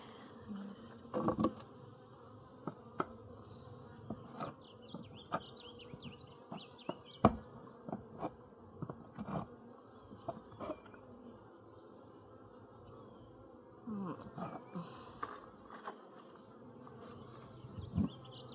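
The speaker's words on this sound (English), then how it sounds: "plenty of bees" Honey bees buzz continuously around a hive infested with hive beetles, with scattered clicks and knocks of handling equipment close by.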